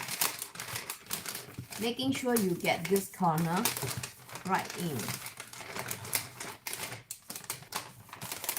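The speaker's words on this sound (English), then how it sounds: "So you want to just fold the paper in like that," Wrapping paper being folded and creased around a Christmas gift, crisp crinkling and rustling heard throughout beneath a person talking.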